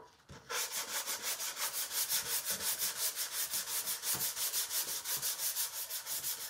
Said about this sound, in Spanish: Entonces vamos a lijar lo que dé de sí la lija.